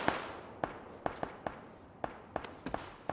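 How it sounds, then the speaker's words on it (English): Sharp gunshots from the battle royale game PUBG crack out about eight times at irregular intervals, each short and moderately loud with a quick decay, and no one talks over them. "there's shots on you, Mick"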